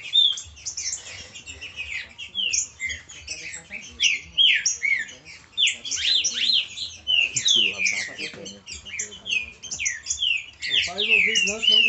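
A flock of trinca-ferro (green-winged saltator) birds calling at once, a dense, continuous chatter of loud whistles, chirps and squawks, with muffled voices faintly underneath.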